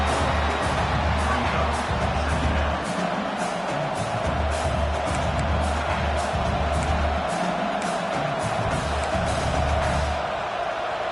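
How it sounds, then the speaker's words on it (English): A large stadium crowd at a football game roars in a steady, loud wall of cheering that holds without a break throughout. "This crowd, full throat, splitting the eardrums and letting them know it's going to be a long day."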